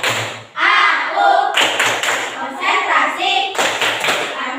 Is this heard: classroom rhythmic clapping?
yes